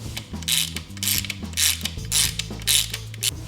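A ratchet drives small engine cover bolts down to 5.1 foot-pounds. It makes several quick, close bursts of clicking, each a short rasping run with brief pauses between, over a faint low hum.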